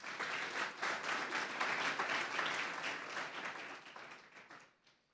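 A church congregation claps in a burst of applause, fairly distant and moderately soft, holding steady for several seconds before fading out to silence.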